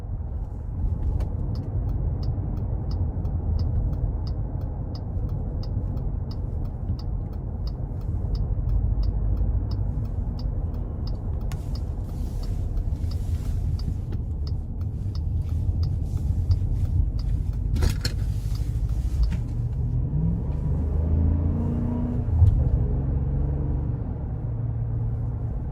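Low, steady engine rumble from the 5.7 liter V8 of a 2022 Jeep Wagoneer Series II on a test drive, continuous and close, with a faint ticking pattern and brief rattles near the end, no talk.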